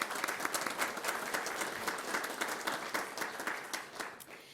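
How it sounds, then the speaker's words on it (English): Brief round of applause from attendees at a school governing board meeting, moderate clapping with distinct individual claps audible, steady throughout and tapering slightly at the end. "give her a quick round of applause"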